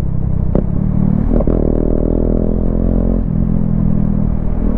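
A motorcycle fitted with a valvetronic exhaust runs loud and close in a steady, deep rumble. The engine note rises briefly for a couple of seconds, then settles back to idle.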